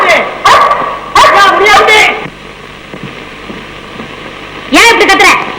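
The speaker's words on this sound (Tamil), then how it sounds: "அதுதான் எங்க வீட்டு நாய் இந்த கத்து" A house dog tied up outside barks in loud, sharp bursts: a single bark, a quick cluster of three or four, then another pair near the end, over a low steady hum.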